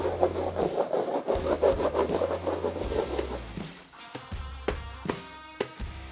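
Rhythmic rubbing strokes of wax worked back and forth across a wake surfboard deck, close and steady at first, then giving way to sparser scrapes and taps.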